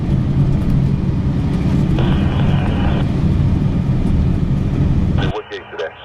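A heavy jet airliner landing on runway 10C at Chicago O'Hare. A loud, steady, broadband roar holds throughout, with voices over it, then drops abruptly to a quieter background near the end.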